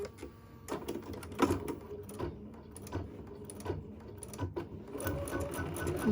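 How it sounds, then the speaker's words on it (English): An embroidery sewing machine works an in-the-hoop bean stitch, a close, rapid run of mechanical needle thumps and clicks in uneven bursts, with a brief pause before the stitching picks up again. "Oh, it's going to do a bean stitch."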